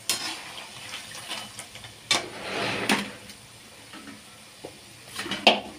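Nimki dough pieces frying in oil in a pan, with soft continuous sizzling, a few sharp clinks and stirring scrapes of a utensil against the pan close by, no talking.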